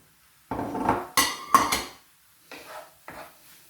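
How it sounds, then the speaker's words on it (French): Leeks dropped into a frying pan, giving several separate clattering impacts of food and metal, close and fairly loud, with quiet gaps between them and no voices. "Je commence à mettre mes poireaux dans la poêle."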